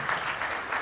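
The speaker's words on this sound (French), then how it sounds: "Ein Applaus. Applaudissez-le." Audience applause at a formal welcome event, a brief burst of steady clapping from a crowd, moderately faint and even.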